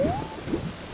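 Steady rain hiss in Ocarina of Time, dense and even, with a short rising electronic tone near the start, no talking.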